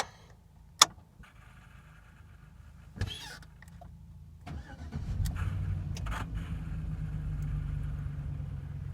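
A Chevy Trailblazer, its throttle body and MAF sensor freshly cleaned, gives a few sharp clicks, then cranks and catches, and the engine settles into a steady, close, low idle rumble.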